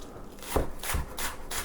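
A knife chops through a red onion on a cutting board in a few separate, fairly close thuds over a steady soft background hiss.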